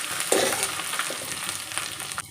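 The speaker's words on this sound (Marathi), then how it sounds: "आपल्याला हे चमच्याने सारखं करायचं आहे एक इंच आलं ठेचून घेतलेलं व्यवस्थित मिक्स करून घ्यायचं आहे" Spoon stirring a spiced matar kachori filling of crushed green chillies and ginger in a pan, a close, steady scraping with light sizzling throughout.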